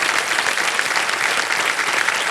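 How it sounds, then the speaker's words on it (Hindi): Studio audience on a television quiz show breaking into steady, loud applause, a dense unbroken wash of clapping from a standing crowd with no voices over it. "इधर खड़े होकर के सब ताली बजा रहा है सर"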